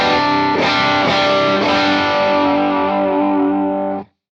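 An electric guitar played through a boost pedal on a worship pedalboard rings out with driven, saturated chords, several struck strums in the first second sustaining and then cutting off abruptly after about four seconds.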